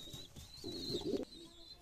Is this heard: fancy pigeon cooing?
yes